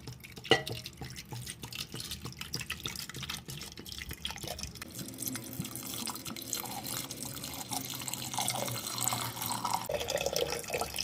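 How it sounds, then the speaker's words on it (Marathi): Water is poured into a pot of salted tubers before boiling, a steady splashing and running-water sound close by with scattered drips and a few light clinks of the vessel. "आता कंद उकडण्यासाठी पाणी घालूया"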